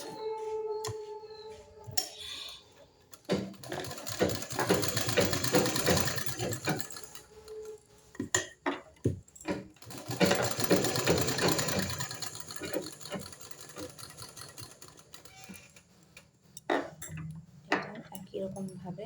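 A sewing machine stitches diagonally across two 3-inch fabric squares, its motor running in bursts of rapid mechanical ticking, stopping and restarting between runs, close and moderately loud.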